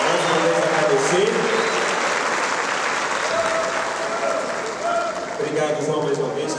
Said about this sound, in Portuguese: Vamos dar uma salva de palmas para eles primeiro, né, gente?